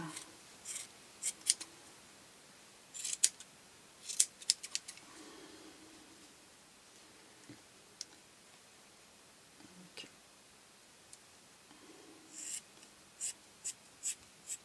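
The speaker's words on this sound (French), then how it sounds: "je vais l'aplatir entre mes doigts et je vais lui refaire une bonne coupe" Scissors trim a fluffy snowman Christmas decoration, making repeated short, crisp snips in quick clusters close by, with soft handling noises between them.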